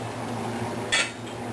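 A metal lid lands on a pot of cream of broccoli soup on the stove, a single brief clank heard close up over a steady low hum.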